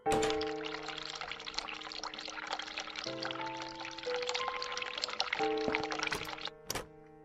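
Hot water streams out in The Cat Lady, a continuous rushing pour that starts abruptly and runs for about seven seconds. Held tonal music sounds underneath, and the flow cuts off near the end.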